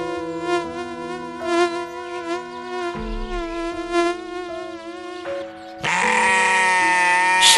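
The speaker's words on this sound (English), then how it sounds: "Fly." A housefly buzzes steadily up close with a droning, wavering whine, swelling into a louder, harsher buzz for the last couple of seconds.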